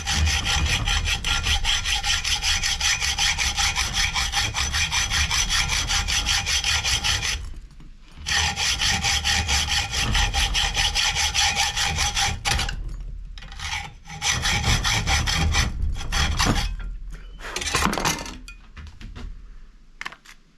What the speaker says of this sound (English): I keep tilting my saw back and forth like that so it cuts it wide enough for the